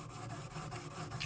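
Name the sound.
sharpening stone rubbing on metal chisel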